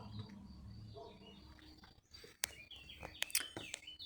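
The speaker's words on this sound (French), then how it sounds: "Entends le bruit des oiseaux." Garden birds chirping in quiet, faint outdoor surroundings, with scattered short high tweets clustering toward the end over a low rustling background.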